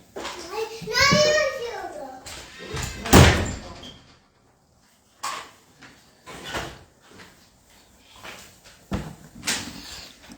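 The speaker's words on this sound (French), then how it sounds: "ferme la porte là, Marie." A door in a home is pushed shut with one sharp, loud knock near the middle, while someone talks and calls out before and after it.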